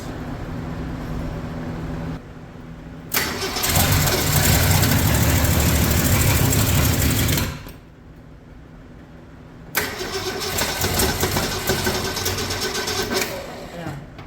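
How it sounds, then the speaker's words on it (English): A rusty 1965 Mercury Comet engine, idle for ten years, cranks and catches after fuel is poured into the carburetor, roaring loudly and close for several seconds, dropping away, then firing up again in a second rough run. "looks like she will run"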